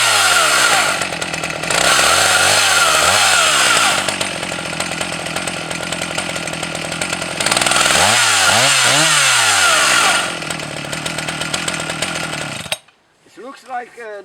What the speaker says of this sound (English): this chainsaw is perfect